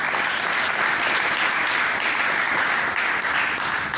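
Steady applause from a church congregation praising God, a dense, even wash of clapping that holds at a moderate level throughout without talk.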